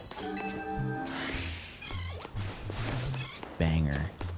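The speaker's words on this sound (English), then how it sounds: "My cat is super cute." A pet cat meows several times in short, rising and falling calls between pauses, close and clear, with a person talking over parts of it.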